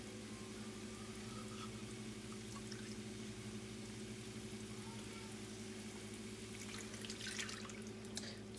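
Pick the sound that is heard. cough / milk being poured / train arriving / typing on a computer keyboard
milk being poured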